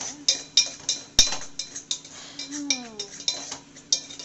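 Pots and utensils clink and scrape repeatedly while plantain curry cooks in tomato gravy, giving sharp metallic knocks at an irregular rhythm, close and fairly clear with no talking.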